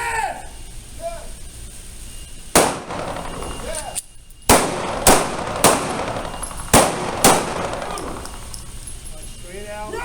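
Pistol shots fired at targets on command during a basic handgun training session, about seven sharp loud reports in irregular spacing, with background voices and ambient noise between the shots.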